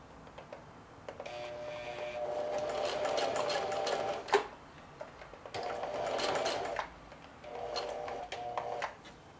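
A sewing machine stitches a hem in three short runs of rapid, even needle chatter separated by brief pauses, close and clear with small clicks between bursts and no talking.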